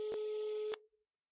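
Telephone tone heard while calling a seller about an Audi R8 for sale: a single steady electronic tone, clear and alone, cut off abruptly after less than a second.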